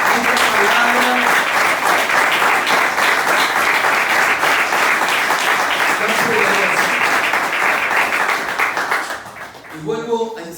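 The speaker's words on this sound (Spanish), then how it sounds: "Denle un aplauso a esta palabra." A church congregation breaks into loud, sustained applause at a worship service, dense clapping filling the space for about nine seconds before tapering off, with voices and cheering mixed in near the end.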